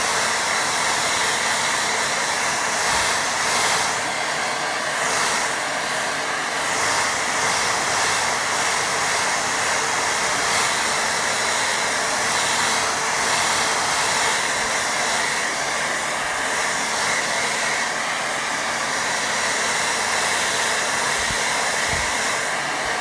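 A hair dryer blows a steady, loud, unbroken roar across a snowy watercolour painting to dry it, running alone without a break.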